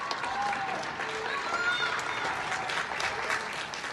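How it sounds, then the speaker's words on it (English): Applause from people clapping inside their homes at open windows at 9 p.m. for frontline healthcare workers, a distant, diffuse wash of many hands echoing across the neighbourhood, steady throughout. "The sky is filled with the sound of applause as people cooped up in their homes show appreciation for those frontline workers"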